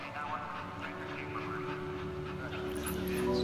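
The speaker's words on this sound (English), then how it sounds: "It's a puppy." A puppy in the video game That Dragon, Cancer gives soft whimpers and small yips over a steady ambient hum, with quiet talk mixed in.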